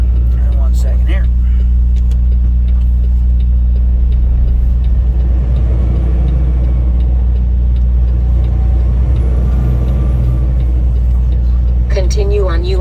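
A fully loaded truck accelerates along US Route 2 in Vermont, its engine a loud, steady low rumble heard from inside the cab, with brief voice snatches at the start and end.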